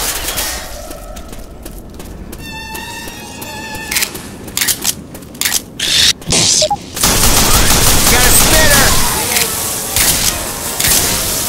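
Rapid bursts of automatic gunfire from the Left 4 Dead 2 zombie shooter, loud and close, with clustered volleys in the middle and a sustained dense fusillade later, mixed with game sounds and players' voices.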